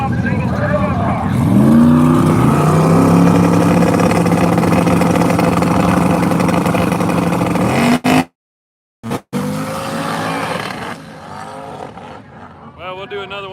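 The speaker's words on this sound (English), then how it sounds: "The Pearl Nissan LS Swap single turbo car." Nissan drift car with an LS swap and single turbo, its engine droning loud and steady with rising revs, cutting out abruptly for about a second, then returning rougher and fading as a voice speaks.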